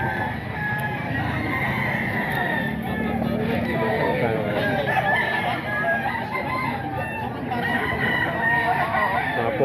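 Chickens and roosters crowing and clucking at close range at a busy Grotto tiangge market, amid a babble of voices and people talking.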